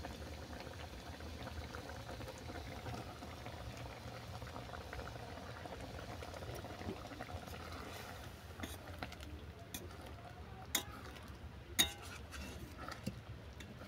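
Chana dal with cauliflower, sugar and cumin powder simmering in a pot, a low steady bubbling hiss throughout with a few sharper pops and ticks near the end, quiet and close.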